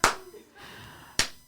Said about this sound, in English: I need like a slow clap